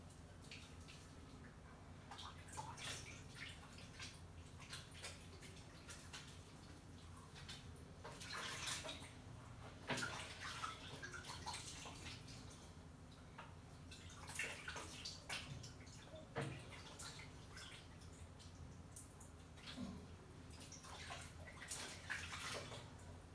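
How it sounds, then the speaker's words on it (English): Water splashing and dripping as a face is washed with soap at a basin, faint, close, irregular bursts with no talk. "Wash my face."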